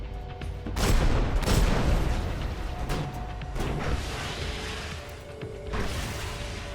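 Shots and crashes ring out in Destiny 2 as a ceiling vent is blasted open, a series of loud impacts and bursts with whooshing debris spread over several seconds.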